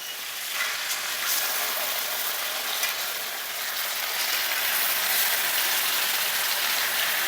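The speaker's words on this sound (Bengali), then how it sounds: "আমরা চিকেনের একদিকটা 2 মিনিটের মতো ভেজে নিচ্ছি" Afghani chicken pieces fry in a pan with a dense, steady crackling sizzle that swells slightly over time, close and loud with no talking.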